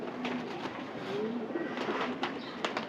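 Pet pigeons coo softly in a short, repeated run of low, throaty calls, close and fairly quiet, with a few faint clicks and rustles around them.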